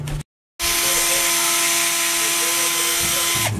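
A power drill whirs loudly and steadily for a few seconds after a brief pause, drilling a cookie sheet with wood underneath, its motor pitch holding nearly constant, close to the microphone.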